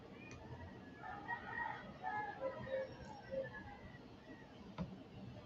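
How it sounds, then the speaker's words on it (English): Parrots squawk outdoors in a steady flurry of bird calls, fairly faint and distant, with a low rumble of background noise underneath. "I don't know if you can hear the squawking, but those are parrots"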